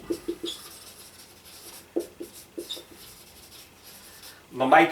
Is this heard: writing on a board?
yes